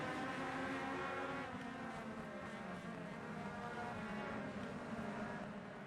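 Race cars roar around the LA Colosseum track in a dense, continuous blur of engine noise from a field of machines, fairly faint and distant, with no voices.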